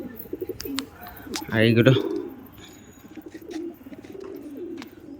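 Pigeons flying overhead, with one brief, close, low cooing burst in the middle, set among faint background noise and someone speaking quietly in Bengali before and after.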